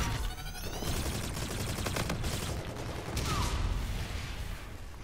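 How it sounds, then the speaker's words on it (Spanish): Gunfire in the shooter game Call of Duty: Infinite Warfare: rapid bursts of automatic fire and sharp shots crackle continuously at moderate volume, with no talk over them. "Golpe y matar a balazos."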